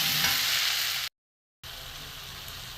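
Banana stem stir-fries with sugar in a pan, a steady close sizzle with scraping, cut by a brief silent gap before the frying resumes at the same level.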